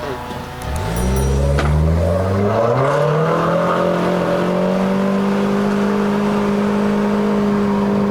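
A bolt-on turbo Proton Inspira 2.0 with a CVT accelerates hard from inside the cabin, its engine note rising loudly and then holding a steady drone as the transmission keeps revs high.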